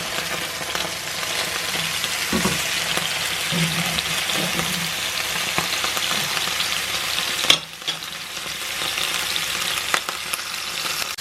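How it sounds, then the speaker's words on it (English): Cod sizzles steadily in a hot frying pan after the heat is switched off, a continuous crackling hiss with occasional pops and a utensil tap, no voices. "switched the heat off because it's obviously still sizzling"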